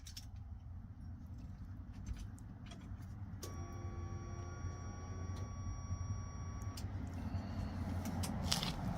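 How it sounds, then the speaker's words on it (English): The electric fuel pump of a 1986 Chevrolet S10 truck primes when the key turns on, a thin steady whine that starts abruptly, holds for a few seconds and then cuts off, over a low, constant background rumble. "the fuel pump actually comes on."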